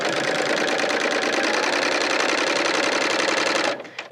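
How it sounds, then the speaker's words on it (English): A Bernina L890 serger stitches through fabric with a loud, fast, steady mechanical whirring and rapid needle chatter that runs continuously, then stops abruptly near the end. "just press down on my presser foot and start to serge."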